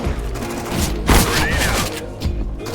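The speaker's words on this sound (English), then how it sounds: "Throwing grenade!" A grenade blast in Counter-Strike booms out at close range amid ongoing gunfire, with a deep thud standing out in the middle of the dense combat noise.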